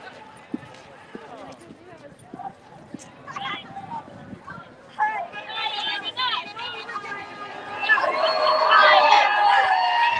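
Crowd of marchers at a Transgender Day of Visibility rally in Salt Lake City, a diffuse murmur of voices and chatter that swells louder toward the end, with a person speaking nearby.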